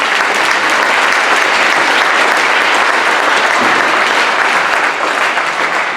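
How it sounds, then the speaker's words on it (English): Dense, sustained applause from an audience at a school band concert fills the whole stretch at a loud, even level, with no gaps. "So we can give them a round of applause,"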